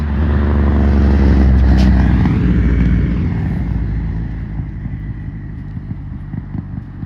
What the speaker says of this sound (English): Do you hear the engine sound behind me?